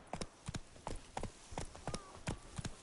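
Hooves of the horse Roach in the video game The Witcher 3, a steady rhythmic clip-clop of a walking horse, close and moderately quiet, with paired hoof strikes repeating evenly.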